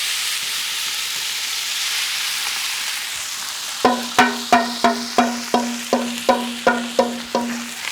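Rice fries in oil or chicken fat in a non-stick pan: a steady sizzling hiss, then about ten evenly spaced scraping strokes of a utensil against the pan, loud and close, with no voices.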